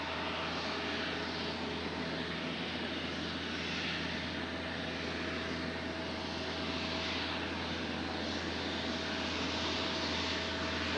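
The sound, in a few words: Embraer jet aircraft engine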